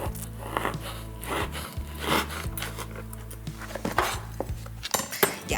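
A knife halves thin celery slices on a board amid clinks of dishes and utensils, with irregular chopping taps and clatters over a low steady kitchen hum.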